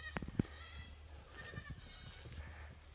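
Goats on a farm bleat in a few short, wavering calls near the start, followed by quieter scattered bleats over a low outdoor background.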